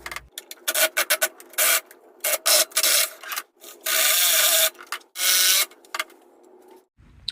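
A saw cuts notches into a wooden cross piece for a table saw extension guide, heard as a series of close, loud rasping strokes in uneven bursts separated by short silences, with no voices.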